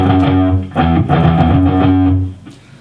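A distorted electric guitar chugs out quick, even sixteenth-note patterns, loud and gritty, then fades near the end.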